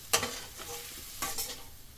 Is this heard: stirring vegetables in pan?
yes